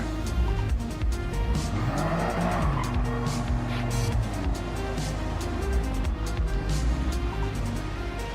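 A Toyota GR Cup car in a racing game squeals its tires steadily during an attempted burnout, over a constant low engine drone, with nearby clicks and squeaks and no talking.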